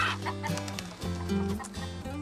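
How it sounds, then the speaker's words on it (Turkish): A chicken clucks in a quick, repeated series of short calls, fairly close and steady, at a sunny seaside spot in Bodrum, with no talking. "Aha vallahi tavuk. Ay canlısını hiç görmemiştim."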